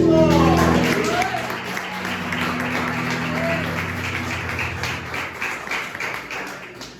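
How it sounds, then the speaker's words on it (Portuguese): A church congregation applauds at a service, with scattered claps and taps continuing steadily under a voice that speaks over the clapping throughout. "Você pode aplaudir Jesus?"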